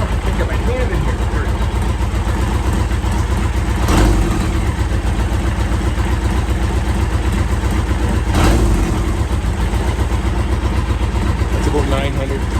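Close up, the restored 1983 Yamaha XJ900 Seca four-cylinder motorcycle idles steadily with a constant low throb, with two brief swells in the engine note along the way.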